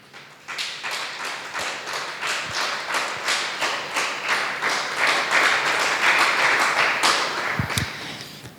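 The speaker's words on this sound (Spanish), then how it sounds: "Damos un aplauso al Señor." A church congregation claps together in a steady, rhythmic unison beat, loud and close, building slightly in intensity over several seconds before tapering off with a few thumps at the end.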